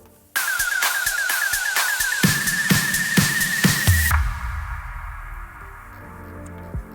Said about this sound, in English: we have some big snare hits